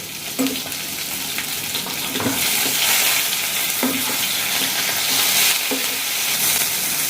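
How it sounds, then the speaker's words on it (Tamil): Steady crackling sizzle of fish frying in hot oil, with a few soft clinks of a utensil stirring in the pan. "இந்த மீனை பொறிச்சிக்கலாம் மீனை திருப்பி விட்டுக்கலாம்"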